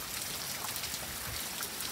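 Morning rain comes down as a dense, even hiss of drops on surfaces, steady and moderately soft with no voices.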